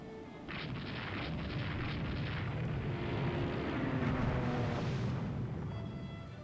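Naval gunfire and shell hits on warships in the Rule the Waves 2 game, a dense run of deep rumbling booms and bursts rolling together continuously, fairly distant and muffled.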